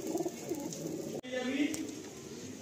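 Black pigeons cooing in a loft, low throaty coos repeating steadily at close range, with a brief gap midway and a dense murmur of birds throughout; a voice may be faintly present.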